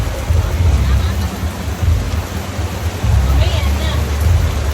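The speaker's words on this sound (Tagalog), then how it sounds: "Ang lakas kasi ng ulan." Heavy rain pours down outside during a typhoon, a loud, steady broadband hiss with a deep low rumble underneath, while people talk over it.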